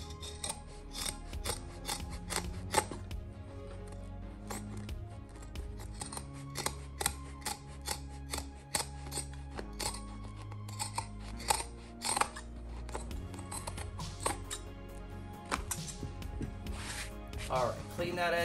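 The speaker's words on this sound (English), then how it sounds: "So we'll pull it out and we'll shave 1/8 of an inch off." Blade trimming a stair runner's carpet edge during a DIY install, shaving off a sliver: repeated close scraping and cutting strokes with mechanical clicks and rasping texture, steady throughout with speech over it.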